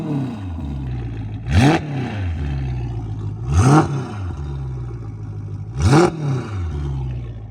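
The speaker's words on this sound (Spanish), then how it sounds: "escuchamos el súper ruido de los Novitec" A red Ferrari fitted with Novitec exhausts idles loudly, then is blipped three times in sharp, evenly spaced revs that swell and fall back, close by with no talk over it.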